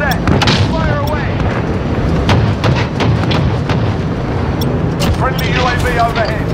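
Modern Warfare 105 artillery strike, with dense, loud booms and thuds landing in quick succession among gunfire and game chatter effects, sustained throughout.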